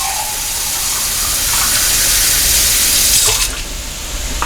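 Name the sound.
water filling an emptied soup can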